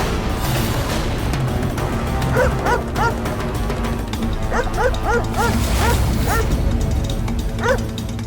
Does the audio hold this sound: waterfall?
no